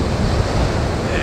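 Big surf breaking close to the shore on a Bali beach, a steady loud roar of crashing waves with rumbling wash and some wind buffeting the microphone, no pause across the short stretch.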